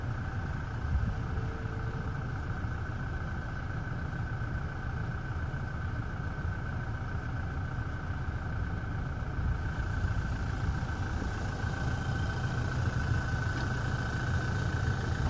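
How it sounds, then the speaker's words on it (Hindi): A Toyota Fortuner SUV engine idles with a steady rumble, low and even, with a constant hum and no speech over it. "और गाड़ी को स्टार्ट कर लिया है, गाड़ी को स्टार्ट।"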